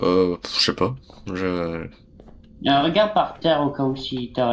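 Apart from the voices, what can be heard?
No everyday noise stands out behind the speech.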